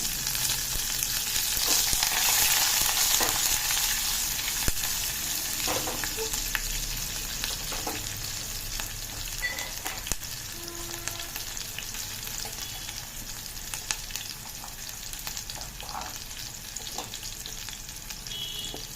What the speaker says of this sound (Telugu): ఇప్పుడు ఉల్లిపాయలు వేసుకుంటున్నామండి, ఉల్లిపాయ ముక్కలు, పచ్చిమిరపకాయ ముక్కలు వేసామండి.